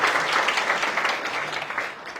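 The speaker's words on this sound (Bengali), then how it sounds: "তাদের জন্য একটা হাততালি।" A classroom audience claps together for students after exam results, a brief burst of many hands that is loud at first and gradually thins out.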